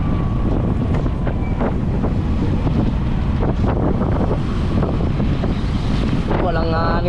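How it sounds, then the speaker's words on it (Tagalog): Strong wind buffets the microphone in loud, rumbling gusts, with faint voices and clattering in the background. "Ayan, lakas ng hangin, oh."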